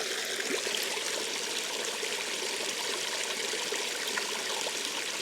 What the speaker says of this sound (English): some crystal clear water from a mountain stream